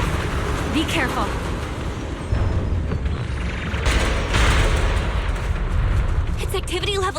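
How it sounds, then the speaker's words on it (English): Explosions from the blasts of a pulsing cocoon in the video game Zenless Zone Zero, heavy booming rumbles that swell and fade over a dense, continuous roar, loud and close, with voices talking over them. "Explosions are becoming more frequent."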